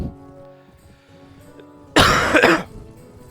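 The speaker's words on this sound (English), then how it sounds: "I'll have to ignore the coughing." One harsh, loud cough bursts out close to the microphone from someone with a touch of bronchitis, following a quiet stretch with faint background music.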